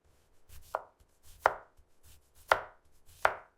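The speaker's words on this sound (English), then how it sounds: "Peel and cut your yam into chunks." A knife cuts peeled yam into chunks with four sharp, evenly spaced chops on a board, close and clear, with no talking.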